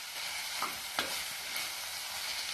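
Chayote stir-fry stirred in a hot pan over a medium flame, giving a soft steady sizzle with a few light scrapes and knocks of the spatula.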